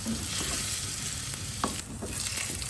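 Potato pieces fry in hot oil in a pan, giving a dense, continuous sizzle close up, with light scraping from stirring now and then.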